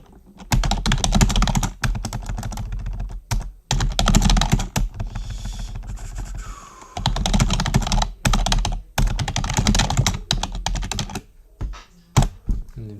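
Fast, continuous clatter of typing on a computer keyboard, loud and close, in long runs broken by brief pauses and a few isolated key thunks.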